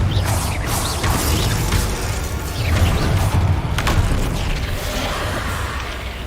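A Confringo fire blast spell goes off in Hogwarts Legacy as a series of punchy bursts and booms amid game combat effects, loud and continuous with clustered impacts.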